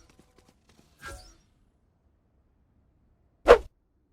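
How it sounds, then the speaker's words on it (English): Sova fires a full-charge recon bolt arrow on the Split map in a video game: two short, sharp whooshing bursts, a softer one first and a louder, punchier one a couple of seconds later, with silence around them. "and then finally shoot a full charge recon bolt"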